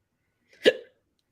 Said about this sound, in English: I got the hiccup